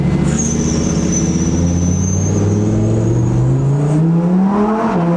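A Lamborghini engine runs loud and close as it revs, its droning tone climbing steadily in pitch toward the end, with a faint high whine above it.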